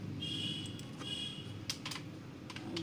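Computer keyboard typing in a word processor, soft steady clicking of keys at a close but low level, alone without talk.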